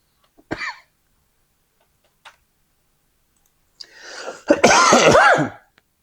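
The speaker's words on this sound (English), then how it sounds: "I still got this cold, man. But this cough." A man with a cold coughs in a harsh, wet fit of several bursts near the microphone, preceded by a few brief clicks and a short throat sound in otherwise quiet surroundings.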